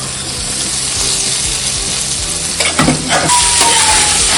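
Boiled chicken is tipped into browned onions in a hot pan, giving a loud, continuous sizzle that swells with a burst of clatter and stirring scrapes near the end, close up and without speech.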